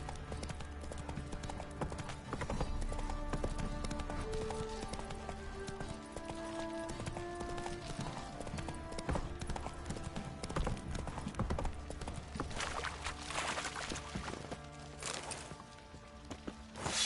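Steady horse hooves clip-clop through a long stretch in the game The Witcher 3, with music playing underneath and occasional louder bursts of noise near the end.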